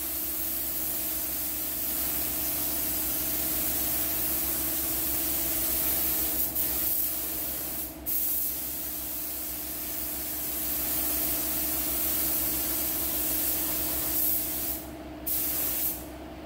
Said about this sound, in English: I'll put one more medium to wet coat on that, and that'll be it. This is a clear coat.